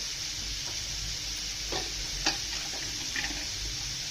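Spices, including Kashmiri red chilli powder, homemade red chilli powder and garam masala, stir-fried in a pan for bombil (Bombay duck) masala, giving a soft steady sizzle with a few faint scraping strokes.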